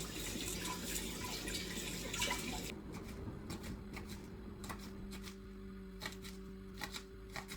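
Tap water runs over spring onions in a home kitchen sink: a steady rush at first, then softer splashing with intermittent clicks and drips as the onions are handled.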